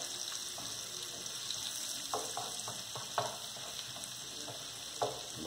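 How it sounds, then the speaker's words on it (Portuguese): Five garlic cloves fry and brown in a pan with a steady sizzle, punctuated by occasional stirring clinks, heard close with no talking. "Dá uma pequena douradinha no alho aqui."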